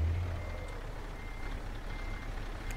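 A truck reversing in Euro Truck Simulator 2, engine rumble steady throughout with faint, barely distinct backup beeps over it.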